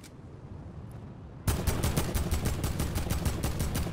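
Rapid automatic gunfire in a shooter video game breaks in suddenly after a low ambient hum, a dense loud stream of regular shots that keeps going to the end.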